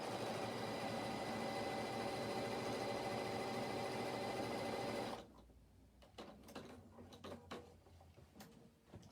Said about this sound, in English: So I'm just zigzagging on the edge of the bottom of the pockets.